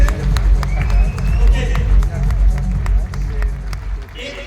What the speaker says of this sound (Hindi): जोरदार तालियों से स्वागत कीजिए मिस स्वाति जोगी